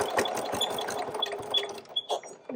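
A sewing machine stitching a quilt basket through several thick fabric layers runs with a close, rhythmic, clunky mechanical beat, pausing briefly near the end. No voices.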